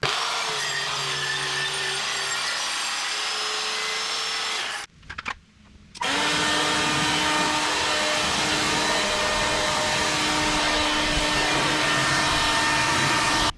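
A loud air blower clears sawdust after wood is ripped to size at a cutting station, roaring steadily nearby, cutting out briefly midway and then resuming at full force, with no talking.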